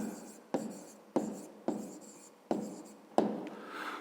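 A pen writes on paper in a maths exercise book, and its scratching comes in five or six short, close strokes with brief pauses between them.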